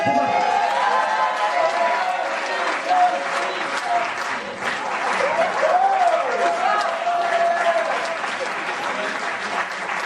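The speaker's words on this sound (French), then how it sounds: "je vous demande de vraiment l'applaudir, de l'acclamer" An audience at a film premiere applauds and cheers to welcome a shy guest, with sustained clapping, whoops and raised voices, and a few louder shouts rising above the crowd.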